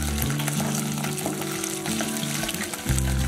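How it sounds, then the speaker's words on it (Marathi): Makhana (fox nuts) fry in ghee in a pan over low heat, giving a continuous close sizzle with faint stirring, while a low steady hum from the stove or kitchen runs beneath. "दहा ते पंधरा मिनिटे मंद आचेवर मखाने तळून"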